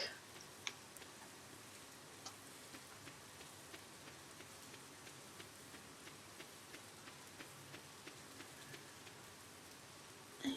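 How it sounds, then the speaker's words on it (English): Steady rain falling in the farming video game Stardew Valley, a soft continuous patter with faint ticks of drops throughout, fairly quiet and even. "Oh cool, it's raining, so we don't need to water anything."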